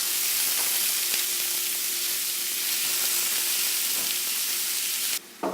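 Ground beef browning in a pan for a beef and rice timbali, a steady, close sizzle and hiss of frying that runs unbroken, dropping out briefly near the end before resuming.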